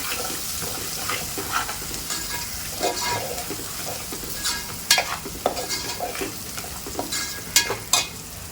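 Ginger, garlic and turmeric sizzle in a pan for fish head soup, a steady close frying hiss broken by repeated clinks and scrapes as a utensil stirs the pan.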